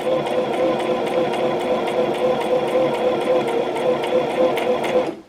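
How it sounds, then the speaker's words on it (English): A Brother XM2701 sewing machine runs continuously while stitching a buttonhole, giving a steady, loud mechanical hum with a fast needle rhythm that cuts off abruptly at the end. "and now it's going backwards. It's doing the back tack, and now it's coming to the front."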